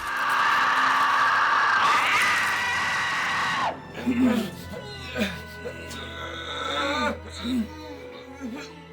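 A harsh, warped, pitch-shifted screech used as a demon bird's voice wails for several seconds before giving way to someone speaking.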